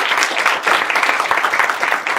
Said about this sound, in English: please give a round of applause for our amazing panelists